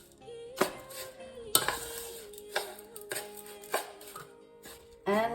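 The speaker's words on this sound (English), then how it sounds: "But before that, let me mix this." Semolina cake batter being mixed in a bowl, a run of sharp, close knocks and clinks of a utensil against the bowl at an irregular beat, about every second, with a quiet tonal hum underneath.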